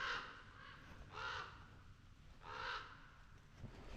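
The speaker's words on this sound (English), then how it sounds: "More of those birds. I think they're just crows." Crows caw three times at a steady interval, somewhat distant, outdoors near a secluded compound, with no talking and a faint ambient background.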